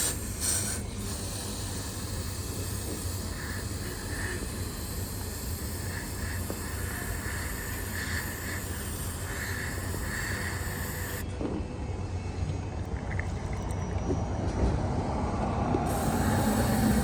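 Steady hiss of carburetor choke cleaner being sprayed onto the intake of a Chevrolet, a continuous close aerosol rush that runs through the whole stretch with a slight change in tone partway.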